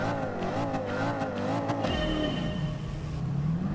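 Chevrolet Corvette Z06 C2 race car engine in Gran Turismo Sport at Willow Springs International Raceway, holding a loud, steady roar that climbs in pitch, drops on a gear change, then builds again, with no talk.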